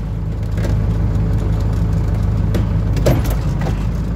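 Claas tractor engine driving forward through a forest during ash logging, a steady low diesel rumble close by with a few brief knocks and clunks over the idle.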